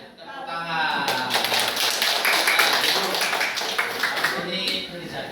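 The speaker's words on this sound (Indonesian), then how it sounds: "Tepuk tangan." A group of schoolchildren clapping their hands together in an elementary classroom, a dense burst of claps lasting several seconds, mixed with lively voices talking and calling out.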